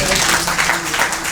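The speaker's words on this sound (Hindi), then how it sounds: "जोरदार तालियों के साथ स्वागत" An audience gives a loud welcoming round of applause for a speaker at a Hindi poetry and literature event, dense continuous clapping filling the moment.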